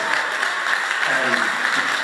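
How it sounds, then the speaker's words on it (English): Dense, steady audience applause fills a gospel choir concert hall, a continuous wash of many hands clapping at even loudness throughout, with a faint voice murmuring beneath. "give him a round of applause"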